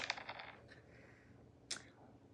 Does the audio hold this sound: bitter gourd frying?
no